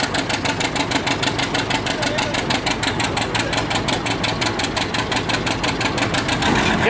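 A John Deere tractor's engine roars at a heritage tractor pull, a loud, steady, rapid pulsing rumble with rhythmic knocking throughout, close and unbroken.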